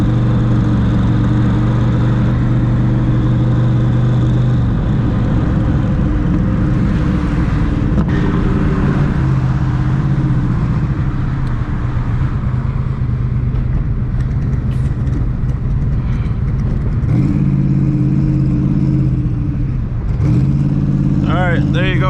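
Twin-turbo Cobra at wide-open throttle on a street, a loud sustained engine roar climbing and shifting through gears for over twenty seconds, with excited voices talking over it.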